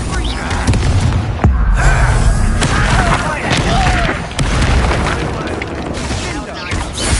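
Confringo spell explosions in the Hogwarts Legacy video game, booming repeatedly and loudly through a thick, continuous wash of battle noise with hardly any pause.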